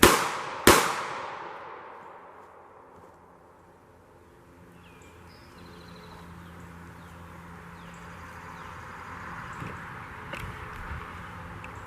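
Two sharp, loud revolver shots crack in quick succession at the start, fired from a Smith & Wesson 642 snub-nose in a close-quarters self-defense demonstration, followed by a fading ring and quiet outdoor background.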